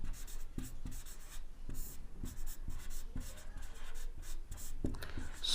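A pen writes a one-line definition on paper, making soft, close scratching strokes in short repeated bursts. No one speaks.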